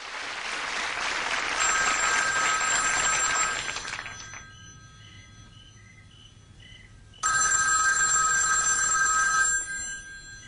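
A telephone rings loudly in two long bursts of bright, trilling bell tone separated by a few seconds of quiet.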